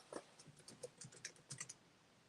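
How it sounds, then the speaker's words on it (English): Quick, light keystrokes clatter on a computer keyboard, a short irregular burst of typing heard up close and quiet. "I'm typing in Google."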